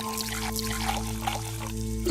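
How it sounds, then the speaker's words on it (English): Water poured from a bucket in a puzzle video game, a steady close trickle and pour running over a constant background music drone. "going to put the water in"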